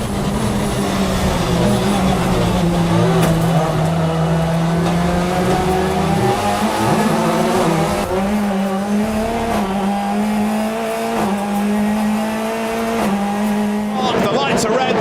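BTCC touring race cars racing at Knockhill, a loud pack of engines roaring and rising in pitch as they accelerate through gear changes, with a commentator talking continuously over them.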